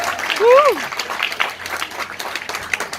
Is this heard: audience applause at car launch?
yes